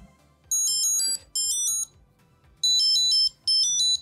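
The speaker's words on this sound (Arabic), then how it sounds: "لو عايزه يرن تدوس مثلا بلاي ساوند" A Eufy SmartTrack Link tracker plays its find-me ringtone, a bright chiming melody in four loud bursts separated by short pauses, with faint background rumble between them.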